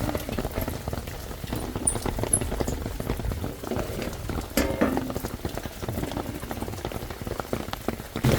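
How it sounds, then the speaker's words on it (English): Heavy rain from a thunderstorm falls steadily, large raindrops pattering and splashing on nearby surfaces in a dense, uneven patter with no voices. "Yeah, it's definitely raining pretty good."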